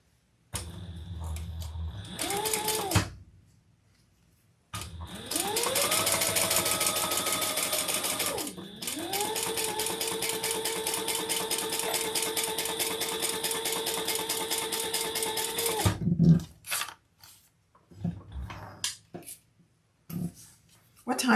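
Sewing machine running steadily for about ten seconds as it top stitches a seam, with a brief burst before and handling clatter after; near and loud, alone with no talk over it.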